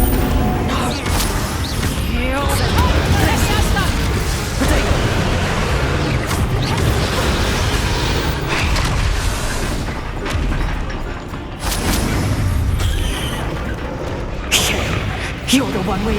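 A Confringo spell explosion in the video game Hogwarts Legacy booms out amid loud, dense combat noise, with heavy blasts and crashes running throughout and game voices mixed in.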